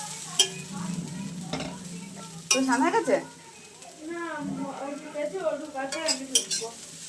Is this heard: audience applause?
no